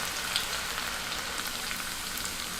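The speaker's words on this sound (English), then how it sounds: "Add some oil into a pan, about 2 to 3 tablespoons, and into that add the garlic and fry the garlic" Garlic frying in a few tablespoons of oil in a pan gives a steady, soft crackling hiss that holds evenly throughout, close and fairly quiet, with no voices.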